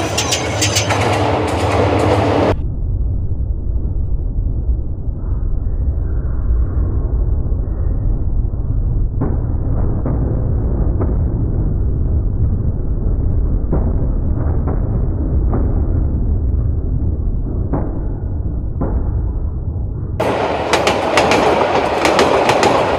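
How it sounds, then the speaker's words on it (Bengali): A train rolls over the rails where fish have been laid beneath its wheels, giving a loud, steady, close rumble with rhythmic clickety-clack of the wagons running through the whole stretch. "ট্রেন দেখেন, ট্রেন আসতেছে"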